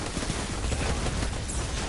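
Hand cannon gunfire in the Destiny shooter: a short, dense stretch of loud shots packed closely together, with no talking.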